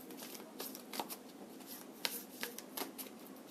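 Tarot cards are shuffled by hand in a quiet room, a soft run of riffling and slapping flutters with short bursts recurring irregularly, close and faint.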